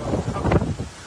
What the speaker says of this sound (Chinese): 海水满出来，越过护栏往马路上冲。